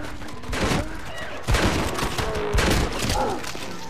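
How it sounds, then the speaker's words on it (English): Rapid bursts of gunfire in Red Dead Redemption's Undead Overrun mode, loud dense volleys of repeated shots clustered at intervals, with other sounds behind them. "Why are you guys shooting each other?"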